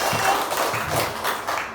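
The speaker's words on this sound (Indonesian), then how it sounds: "kasih tepuk tangan untuk kelompok mandiri" A classroom of primary school pupils claps for a student group, a scattered patter of small hands that rises and falls over a couple of seconds, moderately close and fairly quiet.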